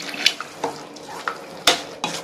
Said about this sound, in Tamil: இப்போ லைட்டாக தண்ணி ஊற்றிக்கலாம்.